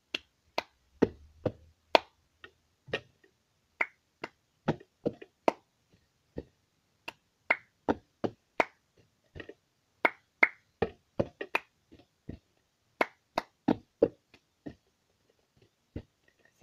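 Four plastic cups on a tabletop are clapped, tapped and flipped in a steady rhythmic cup-song pattern, with a quick run of crisp, close percussive slaps and knocks and no voices.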